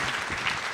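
Brief burst of audience clapping at a podcast taping, many hands close and fairly loud for under a second.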